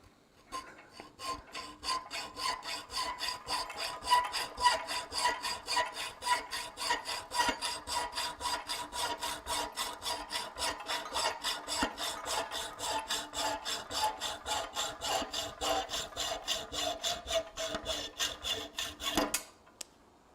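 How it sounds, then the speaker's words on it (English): Hand hacksaw cutting through a 3/16 by 3/4 inch mild steel bar, producing a steady, rapid back-and-forth rasping rhythm of many strokes that is close and clear before stopping abruptly. "Piece of mild steel here. And so we're going to cut through it."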